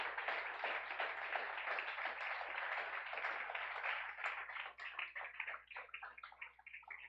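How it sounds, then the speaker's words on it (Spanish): A church congregation claps hard in praise, a dense burst of applause that thins toward the end into scattered individual claps. "Dele fuerte el aplauso al Rey"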